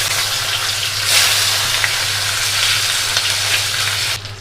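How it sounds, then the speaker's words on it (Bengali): Fish dropped into hot mustard oil in a wok, a loud continuous sizzle and hiss close by that swells briefly and then drops off abruptly near the end, with no voices. "তেল গরম হয়ে গিয়েছে, এবার আমি মাছগুলোকে ছেড়ে দিচ্ছি।"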